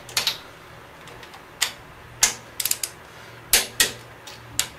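Torque wrench clicking while checking the cylinder head bolts on a rebuilt Chevy 454 big-block V8, a scattered series of sharp metallic clicks, single and in quick clusters, close up and with no talking.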